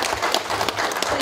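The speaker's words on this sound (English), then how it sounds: "Can we please give them a one more clap?" Wedding guests clapping in a brief, dense burst of applause that holds steady, close and fairly loud, with no voices over it.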